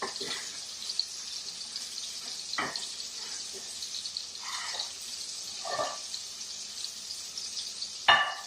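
Dover sole for sole meunière frying gently in a pan, a soft continuous sizzle with scattered louder spits and clicks of utensil handling, a sharp knock near the end.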